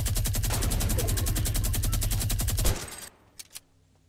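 Gunfire in the video game Fortnite: a loud, rapid burst of automatic fire runs without a break for almost three seconds, then stops, followed by a couple of quieter single shots.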